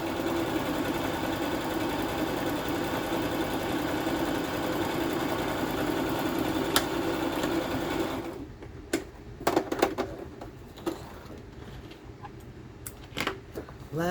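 A sewing machine stitches in a steady, even whir for about eight seconds, then stops and gives way to quieter scattered clicks and handling noises.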